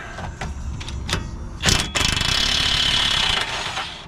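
A handheld impact gun works a car wheel nut loose, giving a short rattling burst followed by a long sustained hammering buzz, loud and close, with scattered mechanical clicks before it.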